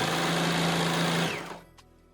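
A sewing machine stitching a ready-made nightie runs with a steady, close whirring hum for over a second, then winds down and stops, leaving a faint click in the quiet.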